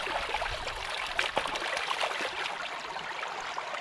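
River water flowing beside an outdoor cooking spot, a continuous close rushing and trickling babble at a steady level, with no talking.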